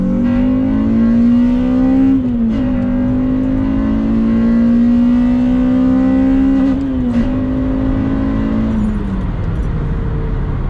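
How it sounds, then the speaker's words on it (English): A Honda Civic Type R (EP3) engine fitted with a K&N Typhoon intake revs high and loud, holding a strained steady pitch with brief dips at gear changes, then easing down near the end. "Still can't get used to revving that high."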